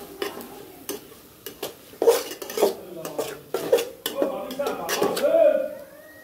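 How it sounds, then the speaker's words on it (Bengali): A spatula stirs and scrapes mashed potato bhorta around a frying pan, giving a run of close, sharp metallic clicks and scrapes over a faint sizzle that grows steadier toward the end. "নাড়াচাড়া দিয়ে ভালো করে ভেজে নেব"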